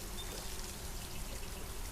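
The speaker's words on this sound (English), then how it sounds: "this sprinkler system is watering the place" Sprinkler system spraying water over plants in the game Solarpunk, a steady soft hiss of falling spray that stays constant and fairly faint throughout.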